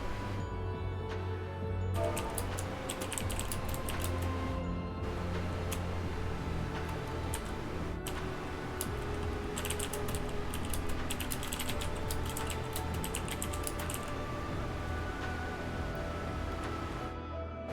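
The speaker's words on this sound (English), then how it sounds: "I actually practice typing a lot, so it's actually not that difficult to not look at my keyboard when typing" Fingers type on a computer keyboard in a steady, close clatter of rapid key clicks with short pauses, layered over continuous low game background sound from a Final Fantasy XIV session.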